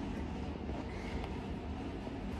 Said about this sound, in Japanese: 電車に入ったので